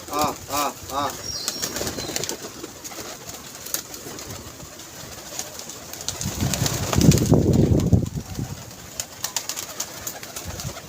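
Pigeons at a pigeon club coo in soft bursts near the start, with wing flapping and a louder flurry of movement midway, over background noise and occasional people talking.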